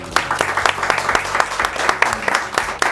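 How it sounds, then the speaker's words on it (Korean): Studio audience applause for a talk-show 100th-episode special: dense, lively clapping from a small crowd, close and fairly loud, with a brief voice underneath. "박수 한번 주세요."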